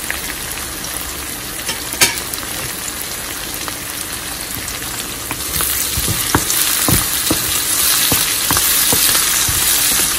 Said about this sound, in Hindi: एक चम्मच हमने सफ़ेद जीरा डाला इसमें।